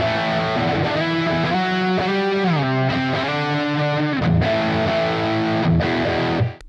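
An electric guitar played through the high gain preset on a Positive Grid Spark 40 amp sustains heavily distorted chords and bending notes for several seconds, loud and close, then cuts off abruptly at the end.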